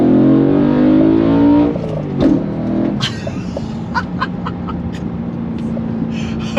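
A Mercedes S65 V8 with a new exhaust rumbles and revs loudly up close, then drops back to a deep, steady idle with a few sharp crackles and pops.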